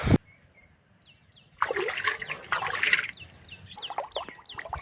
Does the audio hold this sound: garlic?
no